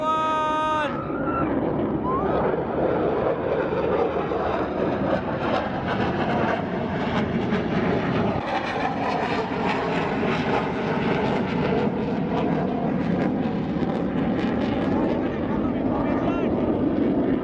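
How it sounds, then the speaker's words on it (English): A Lockheed C-130 Hercules flying low over a National Day Parade in Singapore, its propeller engines a loud continuous drone that fills the whole span, with a brief bit of crowd voice at the start. "The return of the C-130."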